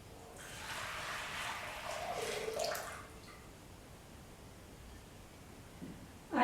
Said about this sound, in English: So let us pour in this water